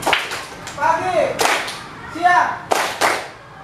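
A school class claps along to a morning-noon-night game, sharp bursts of hand claps in a few separate groups, one clap or a quick pair at a time, with a teacher's voice speaking between them.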